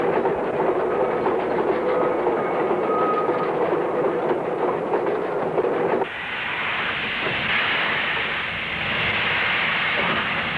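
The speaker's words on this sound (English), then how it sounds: "another train is about to arrive" A model train rumbles past with a steady rolling clatter and hiss, the tone shifting abruptly partway through as it draws closer.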